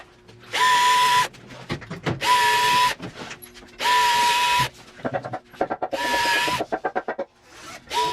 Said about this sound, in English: I'm going to drill some holes in here so the wood doesn't split.